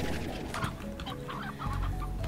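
Chickens cluck repeatedly in the farming game Slime Rancher, a steady cluster of hen-like calls close by over a low continuous background hum.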